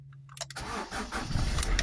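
Peugeot Bipper 1.3 HDi diesel van with about 187,000 on the clock and its engine light on, cranking briefly and catching, then settling into a loud, close diesel clatter at idle.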